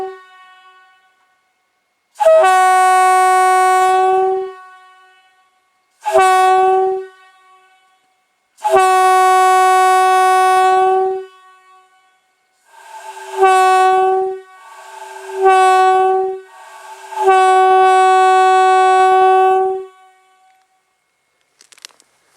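A Leslie Supertyfon single-chime train horn fitted with an RS chamber sounds six loud, steady blasts of varying length, each starting abruptly and cutting off cleanly, with short silent gaps between.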